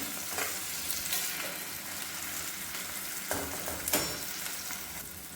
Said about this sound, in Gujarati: અને ત્યારબાદ આપણે થોડા ઝીણા સમારેલા ટામેટા એડ કરીશું અને થોડી વાર માટે ચડવા દેવાના છે।